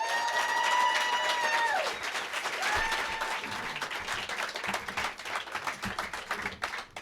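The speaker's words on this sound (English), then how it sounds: "Keep clapping, keep going." A studio audience at a live radio session in Portland applauds and cheers as the band arrives, a dense, sustained clapping with a few whistles early on that continues steadily throughout.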